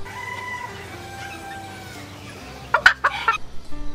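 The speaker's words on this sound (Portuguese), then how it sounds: "Dá uma olhada na diversidade dessas galinhas, olha só. Galinha sedosa" Chickens of varied breeds, silkie among them, cluck in a short burst of sharp calls near the end, after a quieter stretch of low hum and faint bird sounds.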